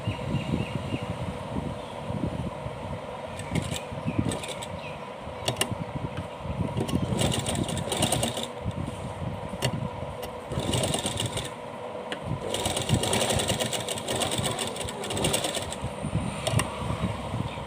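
A sewing machine stitches piping onto a small doll dress, a continuous close hum with rapid needle chatter in uneven bursts, loud and steady with no speech.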